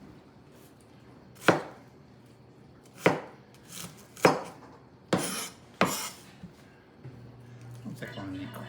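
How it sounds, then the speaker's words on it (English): A knife roughly chopping an onion on a cutting board, five or six sharp, separate thunks spaced a second or so apart, close and clear, with a brief spoken word near the end. "A pretty rough chop on the onion too."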